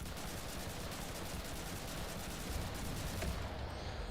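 Sten submachine gun from Enlisted, Tunisia battle with Allied forces, firing in continuous rapid bursts amid dense battlefield noise, a steady wash of shots without clear separation.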